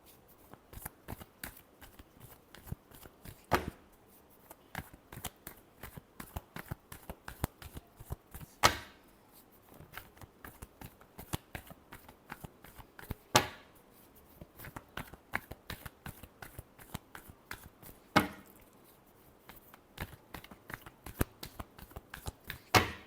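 A deck of tarot cards being shuffled by hand in a quiet room, with rapid riffling clicks and flutters that run almost continuously, broken by a few sharper snaps as the cards are squared, and no talking.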